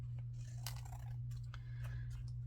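Paper being cut with scissors while shaping a corset cutout for a pastel steampunk journal page, a few quick soft snips close by over a steady low hum.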